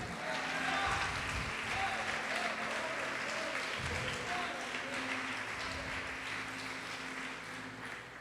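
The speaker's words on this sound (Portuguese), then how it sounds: "Você pode aplaudir o Senhor Jesus por isto?" A church congregation applauding during a sermon, a continuous, moderately distant wash of clapping with faint voices and murmurs mixed in, easing slightly toward the end.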